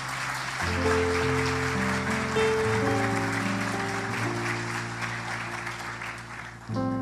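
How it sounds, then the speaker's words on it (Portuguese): A church congregation applauds after a baptism, its steady clapping running under sustained keyboard or organ chords that shift in pitch, moderately loud throughout. "Uma salva de palmas."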